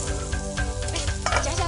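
Food sizzles and crackles loudly in a pan over a camp stove on Hehuan North Peak, wild boar meat among it, a steady dense frying hiss with small bursts of stirring throughout.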